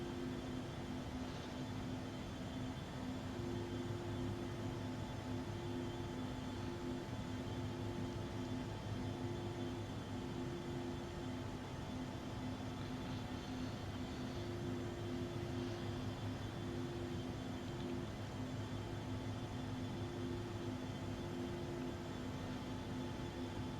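Steady, even cockpit drone of a simulated jet airliner cruising at 34,000 feet near Mach 0.78 on a Nassau to Jacksonville flight, a constant hum with faint tonal whines and no voices, unchanging throughout.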